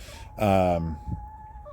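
Backyard hens give a single short clucking call, moderately loud and close, followed by a faint low cluck against a quiet background with a steady faint hum.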